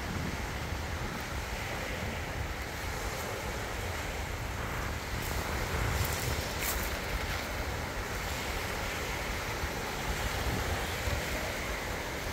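Sea waves washing onto the shore near the Storebælt bridge, a continuous low rushing surge with wind buffeting the microphone, steady and moderately quiet throughout.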